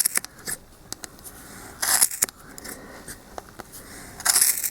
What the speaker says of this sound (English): this is where it helps to have a very nice sharp pair of scissors. Okay, so cut right down the middle.